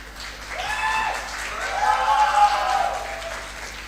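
Audience applause and cheering at an esports LAN grand final, a dense crowd roar of clapping swelling and peaking midway, with a loudspeaker voice ringing over it.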